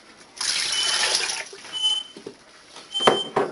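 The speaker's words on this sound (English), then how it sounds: "And I'm going to add in here 2 cups of water." Two cups of water pour into a pot on a stovetop burner, a steady splashing gush for about a second followed by smaller trickles and a couple of clinks near the end.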